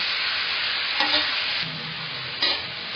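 Ingredients for matar paneer being lightly sautéed in a pan at home: a continuous soft sizzle with stirring scrapes, the spoon knocking the pan around one and two-and-a-half seconds, no voices.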